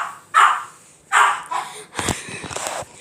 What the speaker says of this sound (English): Barking Toby.